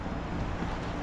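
Wind rushes steadily past a microphone outdoors on a cold, rainy day, a dense low roar that lasts throughout the brief moment with no voices.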